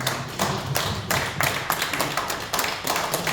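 A congregation at a ROTC fellowship meeting at Daechi Somang Church claps for the pastor. The claps are fairly faint and come as quick, evenly spaced bursts.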